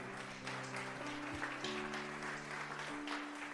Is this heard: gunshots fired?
no